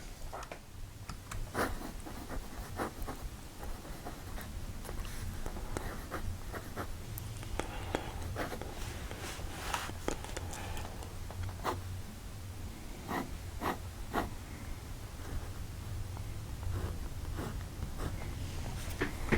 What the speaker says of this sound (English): The real key is when nib touches paper.